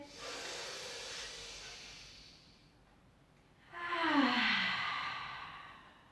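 Slow, deep breaths during a Pilates exercise on the floor: a long airy exhale fades to near silence, then a stronger, closer breath follows with a hissy, sighing quality.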